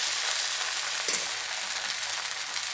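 Dosa batter made from poha, without urad dal, sizzles steadily on a hot, lightly oiled griddle, a close, even crackle with no talk.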